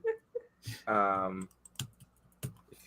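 Quick clicky keystrokes tapping on a keyboard, with a voice briefly speaking and a short whining vocal sound in between.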